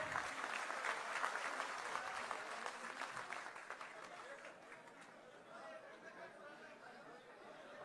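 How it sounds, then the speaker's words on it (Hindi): An audience applauds at a political event in Ambala, India, with the clapping loud at first and then thinning to scattered claps amid crowd chatter. "तालियां रुकनी नहीं चाहिए।"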